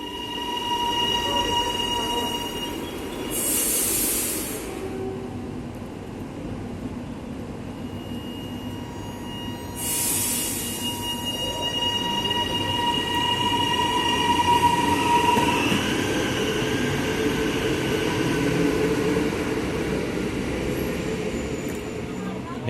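High-capacity metro train (HCMT) running on Melbourne's City Loop near South Yarra, a steady loud rumble of rail travel with wheel squeal and brief high hissing bursts throughout.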